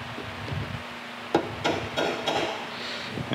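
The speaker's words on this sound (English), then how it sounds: "just a punch here, and we will hammer those in place" A punch struck with a hammer to seat drive pins into the apron of a Monarch 16-inch lathe, four sharp metallic taps about a third of a second apart, close, over a steady background hum.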